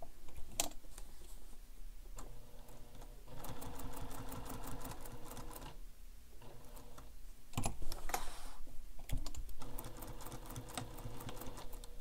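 Sewing machine stitching around a rectangular bag facing with backstitching at start and stop, bursts of quiet needle chatter broken by short gaps, clicks and handling noises, fairly soft and close.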